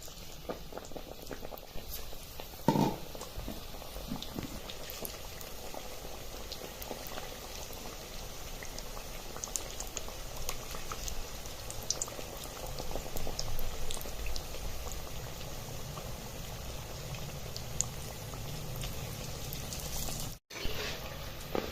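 Potato bhaji fritters deep-fry in hot oil in a steady, dense bubbling sizzle that runs unbroken for the whole stretch, close by, with one faint knock early on and a brief dropout near the end.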